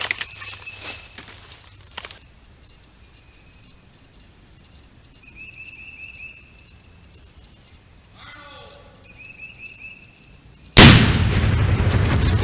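A Tannerite target near a tree, shot from about 100 yards with an open-sight AR-15, goes off as a sudden loud boom with a long rumbling tail near the end, after quiet outdoor ambience with a faint earlier crack and bird chirps.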